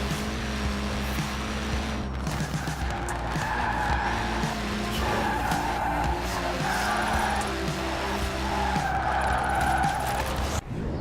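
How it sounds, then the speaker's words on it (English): In Forza Horizon 4, a car drifts for a drift club event, its engine roaring while the tires squeal through a long sustained slide. The sound is loud and continuous, rising and falling with the throttle, and nobody speaks. "I'm gonna have to get up tons of speed to be able to keep the drift going."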